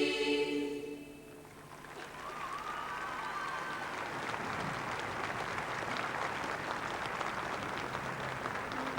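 A vast outdoor crowd at the VE Day 50th anniversary celebration in London breaks into sustained, tumultuous applause, a broad rainlike roar of clapping that follows the fading end of a sung passage and carries on steadily.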